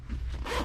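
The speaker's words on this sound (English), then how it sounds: "the zip runs pretty much all the way down the sleeping bag," A sleeping bag zip is pulled closed in one quick, close, raspy zipping stroke with no talk.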